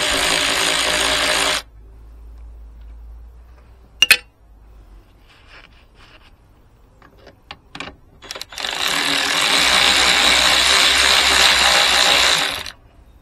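A ratchet or power tool removes bolts from a Range Rover L322 fuel filter in two loud, sustained whirring bursts, one brief at the start and one longer later, separated by quiet metallic clinks and handling.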